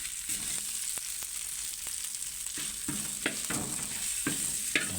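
Pad kaprao with roasted chili paste frying in a hot pan, a constant loud sizzle cut by repeated scraping strokes of a spatula tossing the food, close up with no talking.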